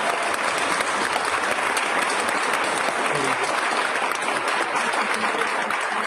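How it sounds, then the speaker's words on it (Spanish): Sustained, dense applause from an audience fills the whole stretch at an even, strong level. "este aplauso enorme es para vos"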